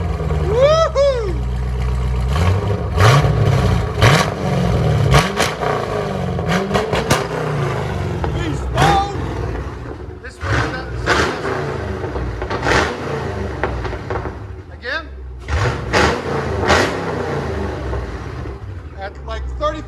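Chevy Camaro SS with a 6.2L V8 and long tube headers, heard from inside the cabin: repeated hard revs that sweep up and fall back, a rumbling idle between blips, and people talking and cheering over it.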